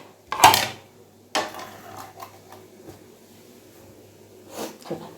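A dish of food gets covered in a home kitchen: a sharp clatter near the start, then another lid-like knock about a second later, and a few faint clinks trailing off.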